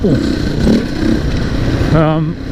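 Dirt motorcycle ridden along a High Country trail at Dargo, its engine note rising and falling close by with a brief rev near the end, under steady wind and rumble while a voice talks over it.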